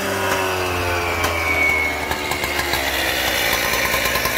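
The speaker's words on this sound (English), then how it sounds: "cutting in some brick pavers." A power saw grinds steadily through brick pavers on a new front entrance build site, a loud continuous motor whine close by with no pauses across the clip.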